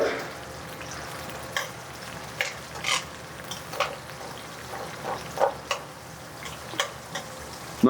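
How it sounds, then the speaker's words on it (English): Onions cook in a pan for Jamaican salt fish with fried dumplings. A soft, steady sizzle runs underneath while a utensil stirs and scrapes in repeated short bursts about once a second, with no talking. "We're gonna get these onions to cook just a little bit first."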